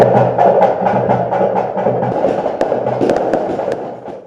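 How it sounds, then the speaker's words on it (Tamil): A string of firecrackers bursts at a traditional street welcome for a DMK election candidate, a rapid crackling volley of sharp pops, loud and close, thinning out toward the end. "ஆர்த்தி எடுத்து பட்டாசு வெடித்து"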